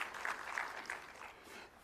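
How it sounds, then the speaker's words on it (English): An audience at a formal climate conference in Arusha, Tanzania, applauds a speaker, with a brief burst of crowd clapping that is fairly loud at first and then thins out and fades. "heavy claps to him again"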